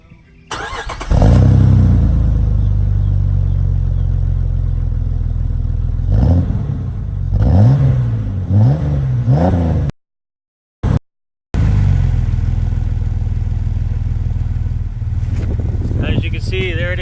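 A Jeep TJ Unlimited with a newly installed Banks exhaust cranks and fires up close by, settles into a deep idle, then revs in several quick throttle blips, with a brief cut partway through.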